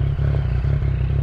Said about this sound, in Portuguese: Ele já ligou a moto dele, ó.